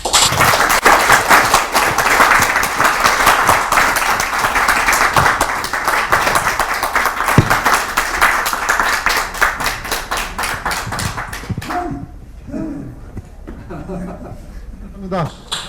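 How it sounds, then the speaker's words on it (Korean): Audience applause at the opening ceremony of an academic summer conference of a Korean local government association, loud and dense for about twelve seconds before dying away into scattered claps and a few voices. "다시 한번 큰 박수 부탁드리겠습니다"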